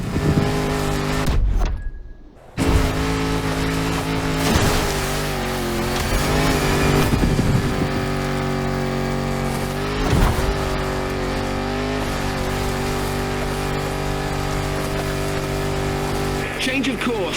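A Land Rover Defender with 400 horsepower in the racing game The Crew Motorfest, its engine revving loudly and steadily with rising and falling pitch through gear changes, one brief drop-out early on, with a voice talking over it.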